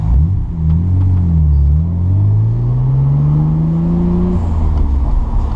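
Nissan 300ZX with a swapped RB26 engine pulls away hard from a standstill, the engine note rising steadily through the revs as a loud, continuous rumble that drops off at the shift near the end.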